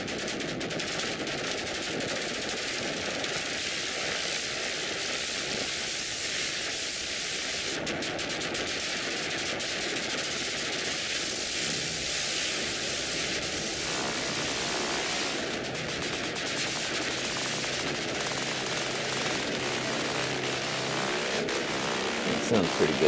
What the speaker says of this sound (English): that's the crazy demon patch